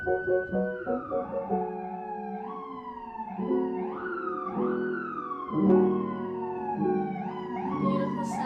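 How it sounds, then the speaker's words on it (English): Police siren wailing through New York City streets, its pitch repeatedly sweeping up and falling back in a rising-and-dropping pattern, moderately distant and steady over faint urban background. "Beautiful sounds of New York City, here for your surrender."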